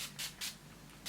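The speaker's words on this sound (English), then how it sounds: "I'm going to be using this Urban Decay De-Slick Makeup Setting Spray" Urban Decay De-Slick makeup setting spray hisses in three short bursts, close to the mic, with quieter rubbing between them.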